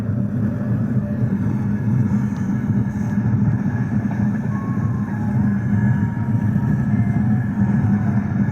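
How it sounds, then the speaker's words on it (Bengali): A train comes around the curves of Patratu Valley, a steady, loud rumble that holds through the whole stretch without easing. "দেখুন ট্রেনটা কি সুন্দর বাঁক বাঁক করে আসছে"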